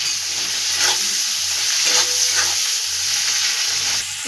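Tomatoes added to fried onions for egg curry hit the hot pan with a loud, close, continuous sizzle and hiss, accompanied by faint stirring.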